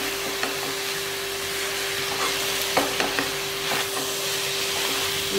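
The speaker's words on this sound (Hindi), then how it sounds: "अब हम इसको एक अच्छा सा स्टर देंगे" Veg fried rice with soy sauce being stirred in a hot pan, a continuous close sizzle and hiss with soft scraping strokes of the spatula throughout, no voices.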